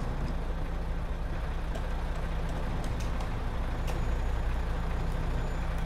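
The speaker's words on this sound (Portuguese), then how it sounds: "Só ver esse ronco aqui, galerinha, do fuscão, que tá um pouco baixo" Old VW 35-300 two-axle bulk-cargo truck idling with a low, steady, somewhat quiet engine rumble, close by and constant with no talk over it.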